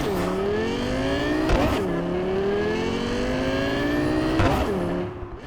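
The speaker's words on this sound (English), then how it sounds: "can we just take a moment to appreciate the revamped engine sound of the Rayfield Caliburn?" The revamped engine of the Rayfield Caliburn car in Cyberpunk 2077 revs hard and climbs through gears, with two sharp shift breaks in a steady, loud, close engine whine.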